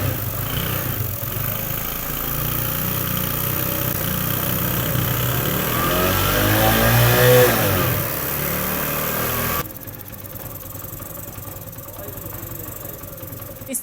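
A China-made motorcycle engine runs steadily after the ignition is switched on, a continuous mid-pitched idle with a slight rise before the sound drops in level near the end.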